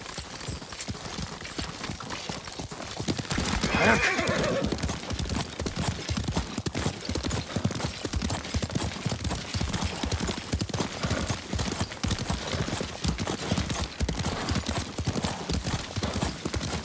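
Rapid rhythmic hoofbeats of a horse ridden at speed in the game Ghost of Tsushima, close and steady over ambient game sound, with a brief whinny-like rise early on.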